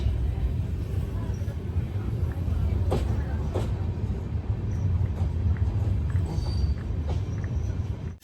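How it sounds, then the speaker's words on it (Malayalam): Himsagar Express rolling into Katra railway station in Jammu and Kashmir after a long run from Kanniyakumari, a continuous low rumble with occasional metallic clanks and squeaks, heard from on board at close range. "3788 കിലോമീറ്റർ യാത്ര ചെയ്ത് ട്രെയിനിൽ ജമ്മു കാശ്മീരിലെ ശ്രീമാതാ വൈഷ്ണോദേവി കട്ര റെയിൽവേ സ്റ്റേഷനിലേക്ക് എത്തുകയാണ്"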